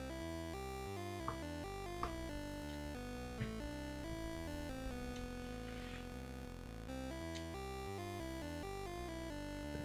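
A bright, bleepy Game Boy chiptune melody made in LSDJ plays steadily over a bouncing square-wave bass, with no voices and a constant loud level throughout.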